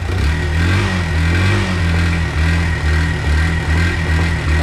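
A Barako motorcycle engine revs steadily while warming up, a loud, continuous low rumble with slight rises and dips in pitch and no pauses.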